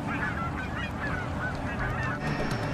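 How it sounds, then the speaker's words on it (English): Canada geese, a resident non-migratory flock, honk repeatedly in a dense overlapping chorus, loud and steady over constant background noise with no talking. "A remarkable increase in the Canada geese that are resident, non-migratory birds."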